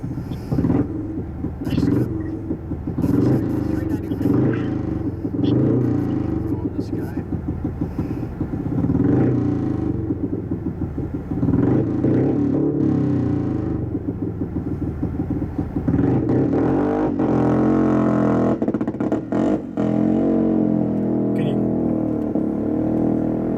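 A motorcycle on the dry lakebed at El Mirage during land speed racing rumbles steadily with rising and falling engine roar over more than twenty seconds, and people talk over it throughout.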